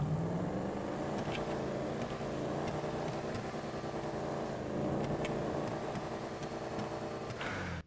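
A Declasse Sabre Turbo muscle car's V8 engine in GTA Online, a steady, loud throbbing rumble that rises and falls with revs throughout, with no talking.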